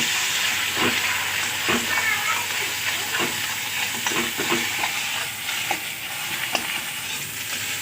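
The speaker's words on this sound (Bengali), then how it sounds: "ডিমটা আমার ভালো করে ভাজা হয়ে গেছে" An egg frying in oil in a wok, with a light pinch of salt, gives a steady close sizzle and hiss, broken by scattered clicks and scrapes of a utensil stirring through.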